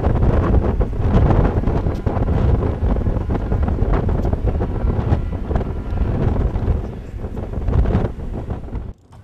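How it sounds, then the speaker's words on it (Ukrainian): Strong wind gusts buffet the microphone at an outdoor kite festival, a loud continuous rumbling roar that holds steady and eases slightly at the end. "Вітер підхопив змія, і той довго кружляв у небі."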